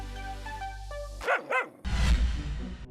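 A dog barks twice in quick succession, loud and close, after a tonal musical intro, followed by a dense noisy burst of sound.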